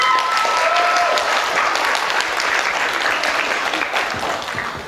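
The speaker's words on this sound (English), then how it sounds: "Everybody give her a big round of applause" Church audience at a sermon breaking into a burst of applause for a young woman singer, dense clapping and a few cheers that fill the room, then gradually taper off.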